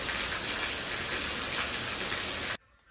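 Heavy rain pours down in Belagavi as a dense, loud, continuous hiss of drops striking surfaces. It stops abruptly near the end and leaves near-silence.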